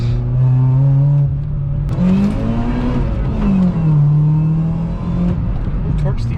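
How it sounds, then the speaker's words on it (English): A car driving with its engine revving: loud, close engine tones rise, fall and shift through the gears, while a person talks over it. "Woo, we're driving now"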